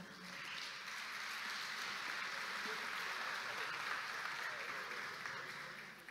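Warm applause at a professional registration ceremony welcoming the president of a mechanical-electrical engineering chapter, a steady moderate clapping from the audience sustained for several seconds without pause.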